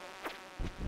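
A bee in Stardew Valley buzzes near the player in the mines, a short whining drone over a couple of low thumps, fairly quiet and without speech.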